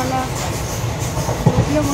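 A passenger train running from Dadar to Sainagar Shirdi, heard from inside the coach: a steady, close rumble with faint rhythmic clatter that continues without a break.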